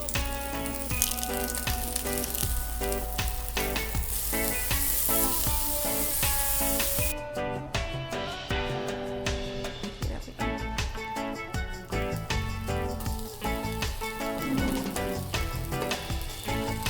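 Flatbread crust sizzles in oil in a pan, a steady close crackling hiss with a denser first half and music-like tonal layers running underneath throughout.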